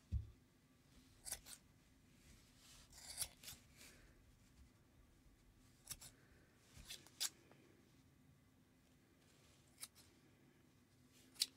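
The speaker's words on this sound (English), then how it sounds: "the way I trim this is I look at the top first and I cut those loops" Scissors snipping yarn loops on a crocheted snowman bandanna, a dozen or so crisp close-up clicks spaced irregularly over soft handling rustle.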